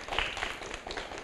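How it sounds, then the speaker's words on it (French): Audience applause at a French book and storytelling event, a faint, steady patter of clapping lasting about a second, heard alone and from some distance. "Donc on l'applaudit bien fort, hein?"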